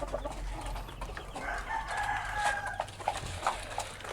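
Backyard chickens and chicks on a small Filipino farm at feeding time cluck and call continuously at close range, with a drawn-out crowing note in the middle and soft rustling underneath.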